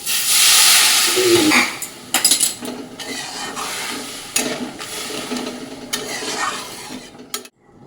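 Hot water going into a pan of frying brinjal curry sets off a loud, rushing hiss and steam burst up close, which fades into bubbling sizzle with scattered clinks and scrapes of a utensil against the pan.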